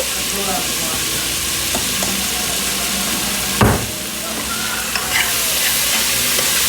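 Beef stew ingredients with garlic being stirred in a pot, a steady close scraping and sizzling with one sharp clank partway through.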